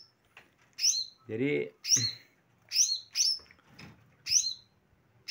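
A mini green leafbird (cucak hijau mini) in a small aviary gives a series of about six sharp, high chirping calls in quick bursts, close and clear, with someone speaking between and under them.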